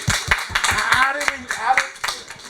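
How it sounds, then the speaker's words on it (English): A small audience at a community launch event gives a brief round of clapping, a few sharp, uneven claps overlapped by people talking nearby. "Come on, let's give you a round of applause."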